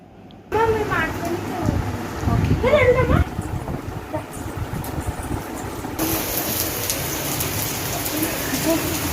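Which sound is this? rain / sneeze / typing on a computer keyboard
rain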